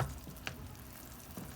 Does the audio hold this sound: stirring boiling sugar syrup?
yes